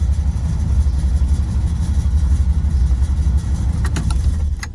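An LT1 V8 idles in a car during a test drive, a loud, steady low rumble that holds even RPM, with a few faint clicks near the end.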